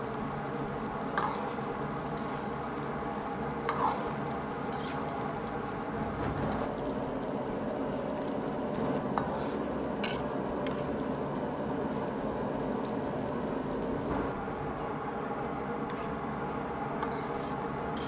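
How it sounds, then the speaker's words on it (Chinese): Shredded lotus root deep-frying in hot oil over medium heat gives a steady, even sizzle and bubbling hiss, continuous and close, with no talk over it. "保持中火炸至大概3分钟左右，看见锅中油的水泡变小"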